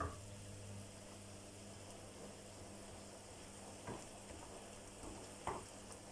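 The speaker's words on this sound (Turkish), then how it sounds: "Salçamızla da şöyle güzelce bir kavrulsun soğanlar." Onions, potatoes and spinach fry in a pan with tomato paste for a crispy börek filling, a soft, steady sizzle with occasional stirring scrapes and clicks, fairly quiet and close, with no talking.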